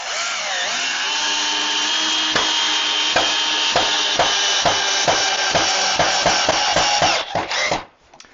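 A power drill drives a long 4-inch screw into wood, a steady loud whine with a regular ticking thud as the screw bites in, then the motor spins down and stops near the end.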